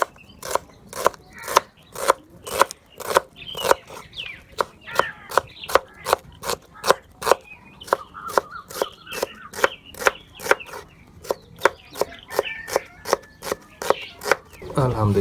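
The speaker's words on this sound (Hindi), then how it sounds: "अभी प्याज की कटाई कर लेंगे।" Onions are chopped with a knife on a cutting board for chicken pulao, giving sharp, evenly spaced knife strikes in a fast rhythm throughout, loud and close.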